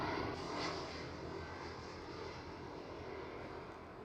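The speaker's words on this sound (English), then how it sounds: "the next arrival is also over here already. It's KLM Cityhopper" A KLM Cityhopper Embraer E175 airliner arrives at Schiphol Amsterdam, its engines a steady broad roar that swells slightly early on and then holds at a constant, fairly distant level with no talking.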